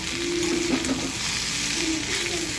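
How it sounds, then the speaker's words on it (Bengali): Potatoes fry in a little oil with turmeric, giving a steady close sizzle under soft scraping as they are stirred in the pan. "হলুদ দিয়ে দিলাম, এখন নাড়বো।"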